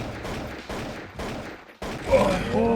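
Gunfire in the video game Counter-Strike: Source, several rapid bursts of automatic shots broken by brief pauses, loud and close, with a voice speaking faintly underneath.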